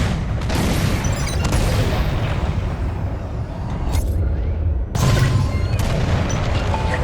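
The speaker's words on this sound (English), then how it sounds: "On my mark, it's bombs away." Bombs explode in Star Wars Squadrons in a dense, rumbling barrage of booms and blasts. Two sharper hits land near the four- and five-second marks, with no talk over them.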